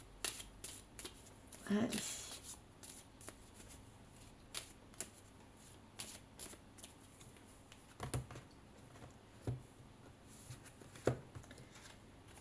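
Tarot de Marseille cards are shuffled, producing a faint run of soft riffles and sharp flicks, with one longer riffle near the start and scattered snaps later. A single word is spoken once, quietly.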